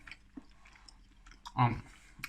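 A snack being chewed during a Christmas snack tasting, with soft mouth noises through most of the moment and one louder crunchy bite near the end.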